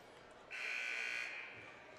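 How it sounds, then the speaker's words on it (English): A basketball game buzzer at a high school state tournament sounds once, a steady electronic drone of under a second against a quiet gym background. "Not sure why they keep blowing the buzzer"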